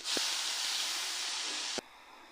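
A loud, steady hiss of masala spice paste sizzling in hot oil with curry leaves, for a green-masala potato curry, cutting off abruptly near the end and leaving a faint quieter background.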